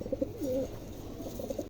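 A silver king pigeon and a qua almond king pigeon coo softly nearby, a few short throaty coos repeating over a low background hum, with no talking over them.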